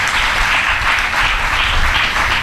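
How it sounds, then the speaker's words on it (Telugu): A church congregation claps together in a steady, dense burst of applause that fills the space for a couple of seconds, loud and continuous with no voices rising above it. "చప్పట్లు కొట్టండి."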